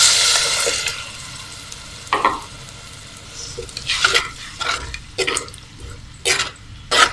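Tamarind water is poured into a fish curry and stirred in the pan, with sloshing, dripping splashes and scattered stirring scrapes over a faint sizzle.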